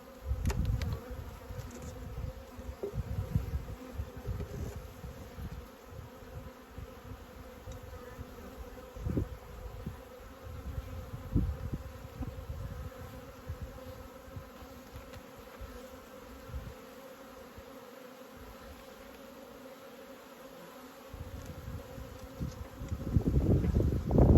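Honey bees drone steadily around a beehive after a swarm has left it, a dense, continuous buzzing that stays close and fairly loud throughout and swells near the end, with no talking.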